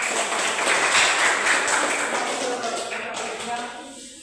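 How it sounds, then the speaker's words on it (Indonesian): Classroom applause after a group presentation, a burst of students clapping together that peaks early and gradually tapers off, with a faint voice near the end. "Berikan tepuk tangan."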